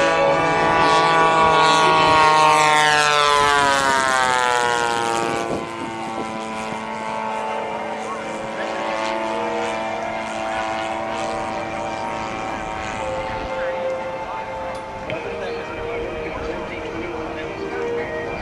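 A P-47 WWII single-seat fighter plane roars past loudly in a flying demonstration, its engine pitch sliding as it passes, then settles into a steady drone while people talk nearby.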